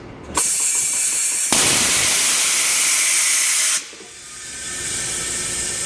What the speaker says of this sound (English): What the big blast of air does is shoot air out of these nozzles down here.